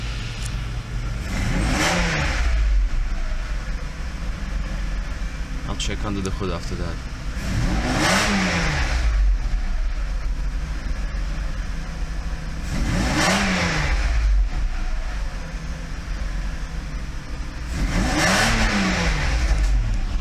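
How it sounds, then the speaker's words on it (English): A cold Mercedes S600 engine revs up and falls back about four times in a steady rhythm, loud and close, with someone talking between revs. "I give it a couple of revs"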